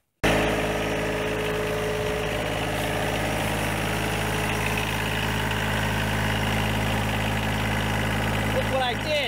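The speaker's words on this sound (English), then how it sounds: "Let me go get another tractor and we'll jump it and fire it up." A tractor engine idles in a steady, loud, continuous low drone for the whole stretch, with a brief rattle near the end.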